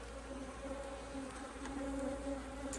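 Honey bees buzzing around an open hive after a swarm, a dense continuous hum close by with no voices.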